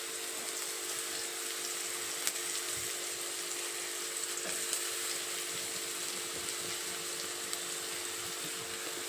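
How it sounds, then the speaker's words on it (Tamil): Ginger garlic paste frying in a pan for a Tamil-style chicken gravy, a steady, even hiss and crackle of sizzling oil with scattered faint pops, continuous throughout with no voices. "இப்போ வந்து இஞ்சி பூண்டு பேஸ்ட் போடலாம்."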